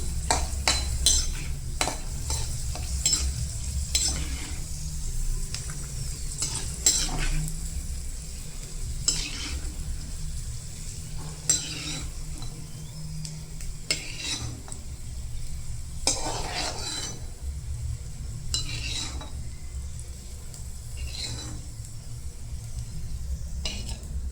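Raisins roast in hot ghee in a pan, giving a soft steady sizzle while a utensil stirs and scrapes against the metal in repeated strokes, close and clear.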